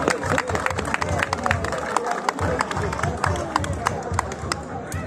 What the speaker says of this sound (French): On applaudit André le meunier,